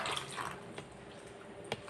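Water drips and trickles faintly as soaked pieces of banana stem are squeezed by hand, producing a few soft splashes and patters close by.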